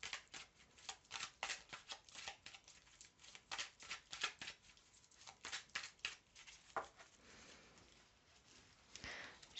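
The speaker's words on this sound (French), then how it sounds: "Allez, je remélange." A deck of cards being shuffled again and again, riffling in quick bursts of crisp fluttering snaps with short pauses in between, close and fairly quiet.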